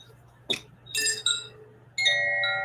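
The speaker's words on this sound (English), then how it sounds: "Let's bring the chimes in." Bright metallic chimes ring out in a few separate strikes, each shimmering and lingering, clear and close against a soft low hum.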